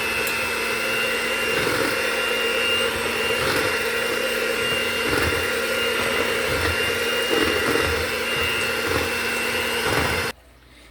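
An electric mixer runs steadily on low speed, blending flour into kiwi cake batter with a loud, continuous whirring hum and faint rhythmic pulsing, then cuts off abruptly just before the end.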